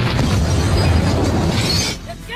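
A landmine explodes and hits a police car in a film scene, producing a loud, rumbling blast with crackling, shattering debris that stays heavy for about two seconds before fading into quieter noise.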